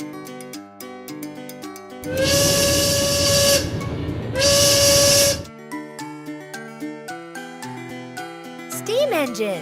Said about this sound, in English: Steam engine.